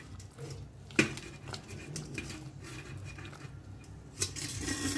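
Chopped onion mixed into pakora batter in a bowl, with soft wet squelching and a few sharp clinks of utensil against the bowl, quiet and close.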